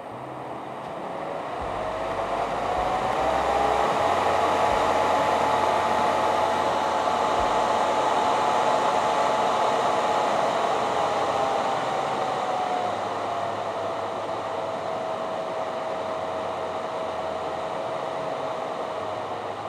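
Llano V12 laptop cooler fans spinning up to a loud, steady whoosh with a faint whine that rises in pitch, holds, then eases slightly and continues running.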